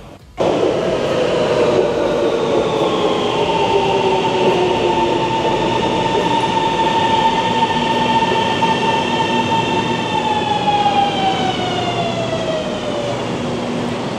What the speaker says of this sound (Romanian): Mai avem 51 de secunde, 49 până vine următorul metrou.